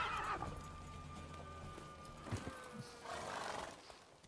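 A horse in The Witcher 3 neighs with a long whinny while hooves clip-clop at a gallop during a horse race, fairly soft and alone with no talk.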